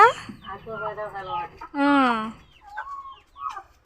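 Hens clucking and calling close by in a yard while being fed rice, with a few rising, drawn-out calls in loud bursts.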